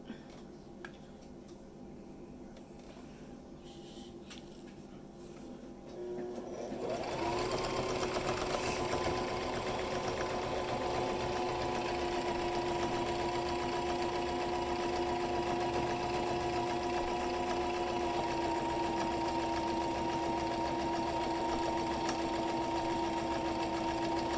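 Sewing machine top stitching fabric for a bag holder, starting after a few quiet seconds with a soft mechanical clatter, then settling into a steady, even motor hum and rapid needle patter that runs on unbroken, close and moderately loud.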